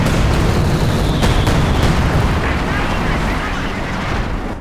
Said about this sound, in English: we're gonna destroy this bunker with an IL-2 bomb strike